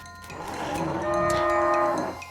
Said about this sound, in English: It's a stanko-bove, a cow skull floating in a cloud of noxious vapors